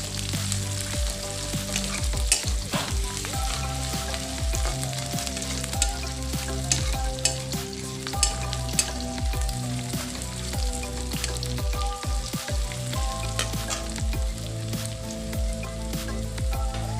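Onions fry in a pan for an Assamese chicken dish, a dense continuous sizzle with frequent scraping strokes of a spatula stirring, close and steady throughout.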